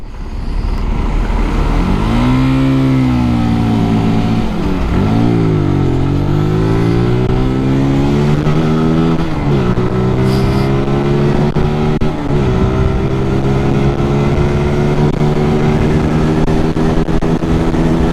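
Zontes Roadster 125 motorcycle on a test ride, its engine loud and close, rising in pitch through repeated gear changes, each shift dropping the revs before the next climb.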